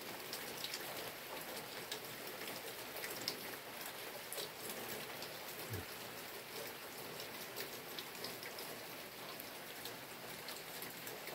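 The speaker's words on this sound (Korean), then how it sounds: "봄을 재촉하는 비가 오고 있습니다." Spring rain falls steadily as heard from beneath a roof eave, a dense, even patter of drops on surfaces nearby with a soft continuous wash behind it and no voices.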